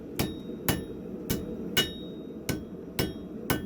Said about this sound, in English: We're gonna come over to my anvil, and we're gonna start hammering in our point.